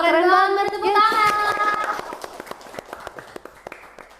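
A voice speaks briefly over a casual student chat, then a small group breaks into quick, sparse hand claps, crisp and close, patting out for a couple of seconds before stopping.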